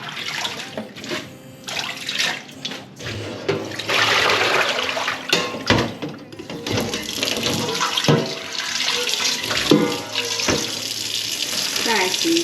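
Leafy greens are washed by hand under a running tap in a sink, with splashing, gushing water and rustling leaves, the flow surging and pausing irregularly as the vegetables are moved around.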